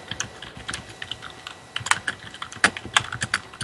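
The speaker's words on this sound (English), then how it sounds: "I hear somebody frantically typing." Fast, irregular keyboard typing clatters close by, with quick bursts of keystrokes and a few sharper clacks, alone without voices.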